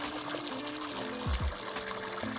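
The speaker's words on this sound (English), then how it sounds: "And that's the easiest way to pour chlorine without getting it on your hands." Liquid chlorine is poured into a swimming pool as quiet trickling and splashing, with two brief gurgling glugs in the middle over soft background noise.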